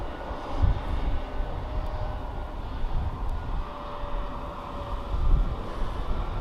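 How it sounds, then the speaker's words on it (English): A Turkish Airlines Airbus A321neo taxis out at Birmingham Airport, bound for Istanbul, giving a steady, broad jet-engine rumble that holds at an even level throughout with no voices. "We've got the Turkish 321neo as well,"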